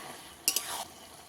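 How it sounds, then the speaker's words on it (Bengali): Pressure-cooked boiled peas and potatoes stir-fried for ghugni: a soft sizzle with a quick pair of spatula scrapes in the middle, close but fairly quiet, with no voices. "মটর আলুটা ভালো করে কষিয়ে নিতে হবে"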